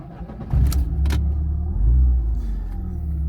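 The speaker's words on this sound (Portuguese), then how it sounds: "Eu vou dar partida no carro aqui" A 1994 Fiat Tipo SLX 2.0 engine cranks and catches near the start, then settles into a steady low idle that rumbles on, with a brief click or two mixed in.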